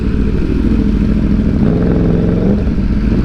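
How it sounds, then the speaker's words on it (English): An Aprilia RSV4 motorcycle engine running loud and close, a dense low throbbing roar with a rising rev toward the end, steady and uninterrupted with no voices. "RSV4 sounds so good."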